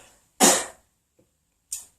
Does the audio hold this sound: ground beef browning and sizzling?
no